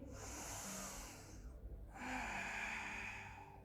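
A deep, drawn-out inhale during a beginner yoga breathing exercise, heard as two long breathy rushes of air, close and fairly loud, separated by a short quieter gap, with no talking.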